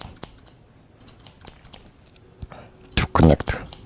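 Scissors snip hair during a men's low gradated haircut, a few soft scattered clicks giving way to a louder close burst of rapid cutting near the end.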